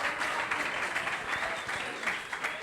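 Audience at a literary talk applauding, a short, even spatter of clapping from a room full of people, moderately distant, with a voice faintly underneath.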